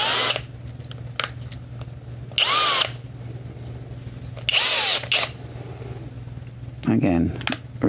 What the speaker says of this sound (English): To make sure the drill bit sits inside that hole.